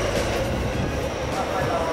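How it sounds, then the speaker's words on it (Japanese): A JR freight train hauled by an EF66 locomotive passing through Higashi-Yodogawa station, a loud continuous rumble of wheels and wagons close by, with some speech mixed in. "貨物列車が来ました。"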